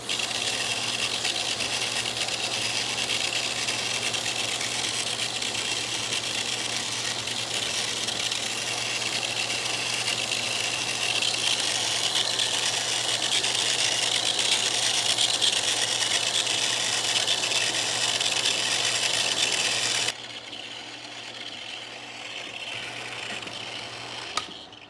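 A sphere polishing machine grinds a spotted basalt sphere on 400 grit, giving a steady, loud whirring rattle that runs unbroken for about twenty seconds before dropping to a quieter hum.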